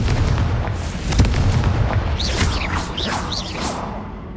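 A Confringo fire spell explodes in Hogwarts Legacy on PS5, a loud booming blast with a rumbling low end and fizzing, whooshing sparks trailing away over a few seconds.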